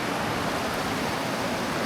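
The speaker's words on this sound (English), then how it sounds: "Listen to the waterfall." A waterfall beside slippery rocks pours with a steady, dense rushing roar, loud and unbroken for the whole short stretch, with no voices.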